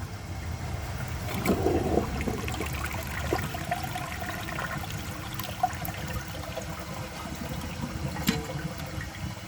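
A 1965 Southern Porcelain toilet flushes weakly with too little water in the tank to siphon, a steady rushing and trickling wash of water heard close and alone for several seconds.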